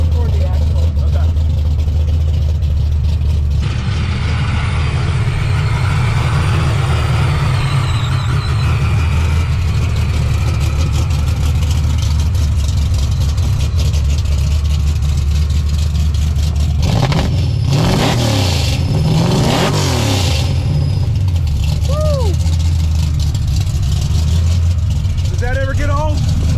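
A 347-cubic-inch V8 making 855 horsepower in a Foxbody Mustang notchback, exhaust dumped just ahead of the rear axle, rumbles loudly and steadily throughout, with sharp revving bursts near the end while people talk nearby.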